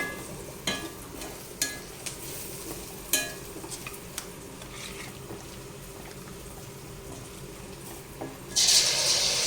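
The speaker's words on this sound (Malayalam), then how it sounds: "നമ്മുടെ എണ്ണ ചൂടാക്കുന്നത് നമുക്ക് ഇതിലേക്ക് ചിക്കൻ കഷ്ണം ഇടാം" Chicken pieces drop into hot oil for a chicken roast, with a few scattered clinks and soft bubbling, then a loud, steady burst of sizzling toward the end.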